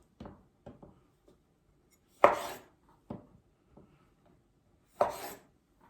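A knife slices tomatoes in half on a chopping board, giving a handful of soft thuds and two louder, sharper cuts spaced out over several seconds in an otherwise quiet room.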